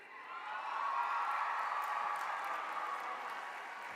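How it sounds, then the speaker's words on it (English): Bachelor of Science graduation candidates at Georgia Tech rising and cheering at a large indoor ceremony, a broad steady wash of distant crowd cheers and applause that swells and holds. "please rise and cheer"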